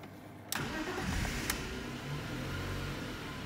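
A BMW E46 320i with an M52 engine cranking and firing after a fuel filter change, a sharp catch and start followed by a steady close idle.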